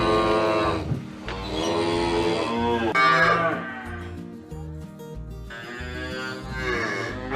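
Farm cow lowing in several long, deep moos, loud and close, with short pauses between calls.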